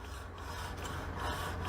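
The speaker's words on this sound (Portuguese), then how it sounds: "pessoas usarem a lixadeira da seguinte forma, ela fica avançando, indo e voltando assim" Close, steady grinding rasp of an angle grinder fitted with a sanding disc, moved back and forth across a metal surface during a metalworking lesson. The noise stays continuous and harsh, with slight surges as the stroke changes.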